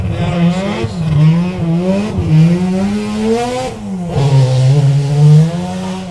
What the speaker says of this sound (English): unmistakable sound of the rotary engine